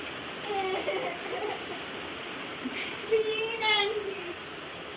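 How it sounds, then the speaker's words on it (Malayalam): Steady rain patters down in a constant hiss, with faint voices murmuring in the background. "വില്ലനെ പോലെ നമ്മുടെ മഴ അങ്ങ് വന്നത്"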